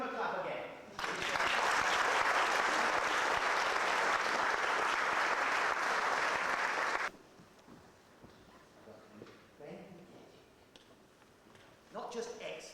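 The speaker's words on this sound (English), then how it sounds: "Give them a clap again." An audience at a UK tour event claps loudly and continuously for several seconds, then the applause stops abruptly, giving way to quieter room noise and a brief burst of clapping again at the end.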